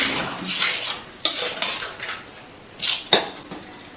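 Rice flour dough for pathiri being mixed with the back of a teaspoon after boiling water is poured in, giving soft scraping and stirring noises with two sharp metallic clinks against the bowl.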